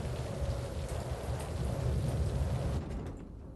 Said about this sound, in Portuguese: Chuva ofuscante e nuvens espessas encobrem o campo de pouso.